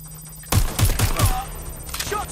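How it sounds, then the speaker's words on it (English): A burst of rapid gunfire rings out in the video game Watch Dogs: Legion, sharp shots in quick succession after a brief quiet lead-in, loud and close, followed by fainter trailing shots. "Shots fired!"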